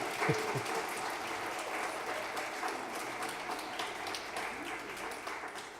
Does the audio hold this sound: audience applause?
yes